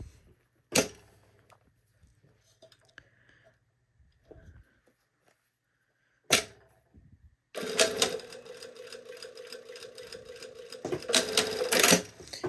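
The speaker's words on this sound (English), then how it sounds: "I'm going to go to the machine and I'm going to sew right along that sewing line" Home sewing machine stitching a shirt collar band seam, heard after a few sharp clicks and quiet handling, then a steady close mechanical whir running for several seconds.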